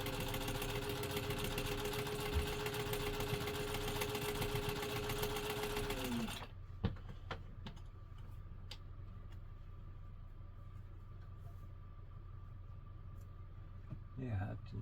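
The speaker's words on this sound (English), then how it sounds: "Put your fabric under the presser foot, lower the presser foot using the lever on the back of the machine" Restored Singer 15-91 sewing machine stitching fabric, a fast steady motor whir and needle rattle for about six seconds that then stops, leaving quiet room noise and faint clicks.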